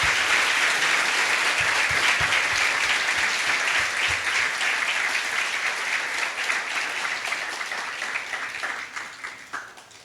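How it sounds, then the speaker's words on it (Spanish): A church congregation applauds in a long, full round of clapping that gradually thins and fades, with individual claps becoming distinct near the end. "Vamos a darle un aplauso al Señor."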